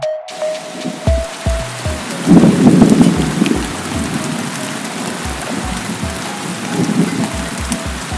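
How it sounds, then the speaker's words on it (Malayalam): A sudden summer rain shower falls on the hilltop Jain temple at Chitharal in March, a steady hiss of rain on stone broken by low rumbles of thunder and dull thudding drops, heard up close with no voices. "പെട്ടെന്നാണ് മഴ പെയ്തത്."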